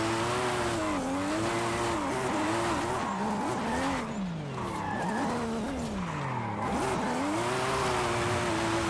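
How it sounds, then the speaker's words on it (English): A Toyota Supra FD drifting up a mountain road in Forza Horizon 5, its engine droning steadily while the tires squeal continuously, the pitch swooping up and down as the car is thrown side to side, loud and close throughout. "Trying to stay in drift."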